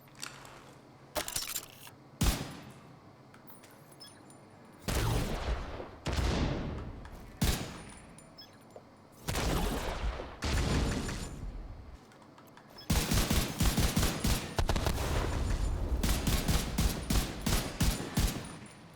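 Video game gunfire in The Division 2: repeated loud bursts and single shots spaced across the stretch, building into a long rapid automatic volley near the end, with no talking over it.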